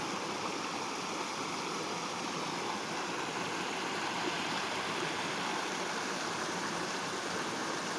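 River flowing past El Molinón mill in Santa Bárbara, Asturias: a steady, even rush of water, soft and continuous for the whole stretch with no pauses or other sounds.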